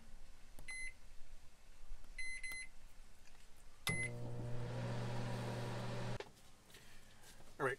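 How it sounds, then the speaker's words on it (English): A microwave oven in a Class B camper van heats a plate of chicken, humming steadily for about two seconds after several short high beeps, then falls silent; near and moderately loud. "We're going to cook it in the microwave."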